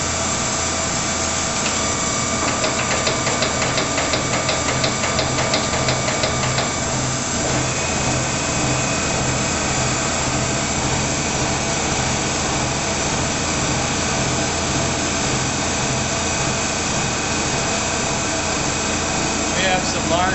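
A Monarch 20 x 54 lathe runs with a steady, loud mechanical drone and whine, with some faint rhythmic ticking early on, and speech can be heard over it at times.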